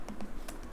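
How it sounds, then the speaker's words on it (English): Typing on a computer keyboard while writing a Django block tag, a few quick, close key taps in a short burst with no talk. "I'm simply typing main."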